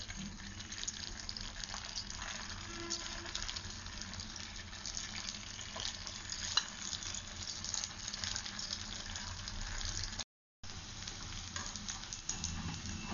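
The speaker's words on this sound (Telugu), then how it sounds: "ఈ మిగిలినవి మొత్తం డీప్ ఫ్రై చేసుకోవాలి" Gobi manchurian cauliflower pieces deep frying in oil, a quiet, even bubbling hiss that runs throughout with a brief dropout near the end.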